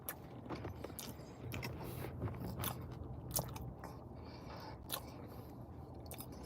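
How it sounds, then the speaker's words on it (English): A person chews a mouthful of beefsteak close up, with quiet, irregular wet crunches and bites, some sharper than others, and no talking. "this is just basically me chewing."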